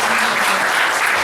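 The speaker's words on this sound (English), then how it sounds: "Can we have a round of applause for you" An audience at a social impact business event in Indonesia gives a steady round of clapping, dense and even throughout with no voices standing out.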